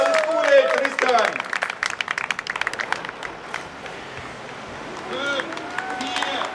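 Crowd applause and cheering for a cyclist at the start of a long-distance race across Germany, mixed with loud shouting voices and a rapid clatter of clapping outdoors.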